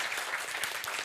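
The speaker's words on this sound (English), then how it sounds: "A big applause." A brief, full burst of audience applause at a steel-sector decarbonization standards event, dense and close, lasting about a second.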